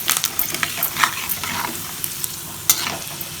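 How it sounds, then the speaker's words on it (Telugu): A tempering of turmeric, chana dal, mustard seeds, urad dal, cumin and curry leaves fries in hot oil, with crackling pops and quick stirring scrapes over a steady close sizzle; no voices. "కొంచెం పసుపు, పచ్చిశనగపప్పు, ఆవాలు, మినపప్పు వేసుకుంటాను."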